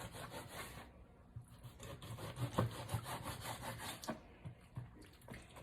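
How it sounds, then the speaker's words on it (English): A knife draws through raw salmon fillet, cutting it into fairly large slices with soft, repeated slicing and rubbing strokes at close range, steady throughout with no talking. "now I'm going to slice the salmon in slices, not too small."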